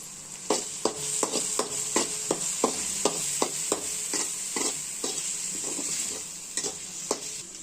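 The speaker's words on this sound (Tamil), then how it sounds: "இப்போ மிளகாய் பொடி சேர்த்து நல்லா வதக்கி விட்டுக்கலாம்." Onion, tomato and chili powder frying in a pan for egg noodles, a steady bright sizzle broken by quick, regular spoon knocks and stirring strokes up close, with no voices.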